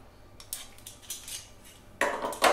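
A leg of lamb is flipped in a cast iron Dutch oven, bringing a few sharp metallic clanks and scrapes of utensils against the pot, quiet at first, then two louder clatters near the end.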